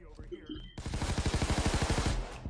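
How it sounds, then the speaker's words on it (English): Gunfire from enemies in the video game Payday 2: a dense burst of rapid automatic shots that starts abruptly after a quiet moment and continues steadily and loudly to the end, with a faint voice audible before the shooting begins. "Oh, and they open fire"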